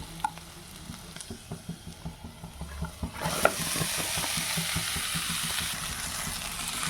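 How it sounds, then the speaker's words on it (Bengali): Grated cauliflower, radish and potato fry and get stirred in a pan for a stuffed paratha filling, with a steady sizzle and scraping stirs that swell into a louder, continuous hiss halfway through. "এই যে একটু ভেজে নিচ্ছি"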